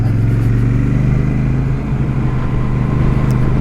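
A Royal Enfield Super Meteor 650 twin roars close and loud under acceleration, its steady throbbing engine note dipping briefly midway as if through a gear shift before pulling on.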